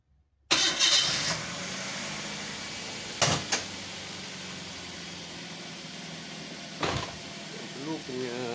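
A Toyota Avanza 1.5 engine cranks briefly and catches, then settles into a steady idle; a door-like thump and a couple of knocks break in later, with a voice briefly audible, all close up.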